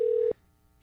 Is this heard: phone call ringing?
yes